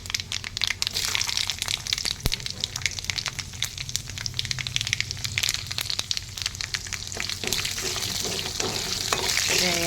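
Mustard seeds, black peppercorns and whole garlic fry in hot oil with dense crackling, popping sizzle and occasional stirring scrapes, loud and close, with no voices.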